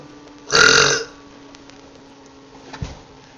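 A single loud, thick burp lasting about half a second, part of a burp competition, stands alone against quiet room tone, followed later by a faint low knock.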